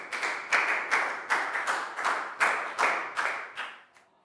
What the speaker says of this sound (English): Big round of applause for Net, please, guys.